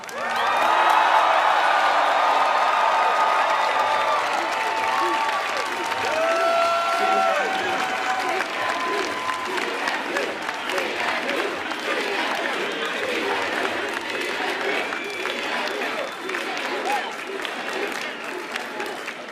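A large commencement crowd at a 2023 graduation ceremony cheers, whoops and applauds loudly, the roar strongest at first and then settling into sustained clapping and scattered shouts that continue throughout.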